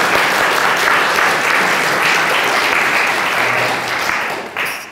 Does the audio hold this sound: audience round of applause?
yes